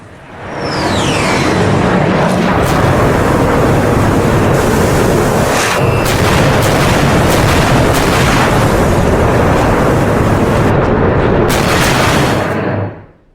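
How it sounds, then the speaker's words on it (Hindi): Loud sustained explosive roar from a bunker buster bomb strike blowing up a tunnel, a broad rumbling blast filling the whole stretch with crackling bursts before cutting off at the end. "यहां पर अमेरिका ने बंकर बस्टर बम दागा है और बंकर बस्टर बम से"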